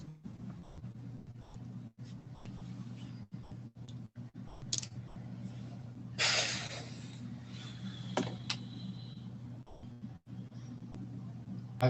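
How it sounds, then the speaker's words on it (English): Rapid, uneven clicking of fingers typing on a computer keyboard, fairly close, running continuously over a low steady hum. "I'm going to type everything I hear you say"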